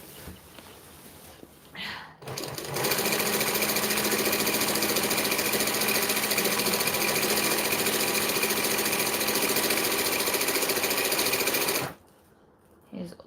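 A sewing machine stitches thick shade sail fabric in one loud, steady, fast run of roughly ten seconds, starting and stopping abruptly, with brief quiet moments before and after.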